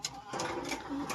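A pigeon in a loft gives a short, soft, low coo, close and faint, over a brief murmur of background noise.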